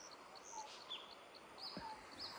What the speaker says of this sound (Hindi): इस फॉरेस्ट में से इतनी प्यारी प्यारी आवाज़ आ रही है चिड़ियाओं की